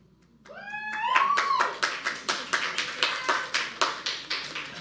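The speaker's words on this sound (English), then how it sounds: "Not sure why you're clapping for that" An audience claps in a rhythmic unison beat, a quick build after a brief tonal sound, then steady regular claps continuing close and clear.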